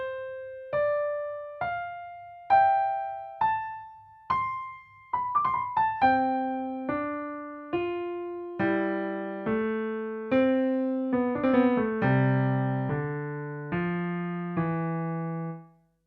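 Solo piano plays the stately four-note theme from Mozart's Symphony no. 41, repeated several times with overlapping entries, clear sustained notes in a moderate steady rhythm, quiet and alone.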